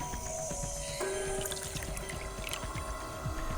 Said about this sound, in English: I'll pour the saline solution in here.